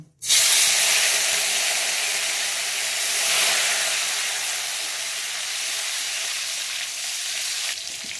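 Chopped tomatoes hit a hot pan for a Bengali dahi kathal curry, setting off a loud, steady, close sizzle and frying hiss that holds evenly throughout with no voices.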